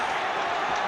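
At an Arsenal versus Spurs football match, a stadium crowd roars in a dense, sustained wash of noise after a foul, loud and continuous with no distinct individual voices.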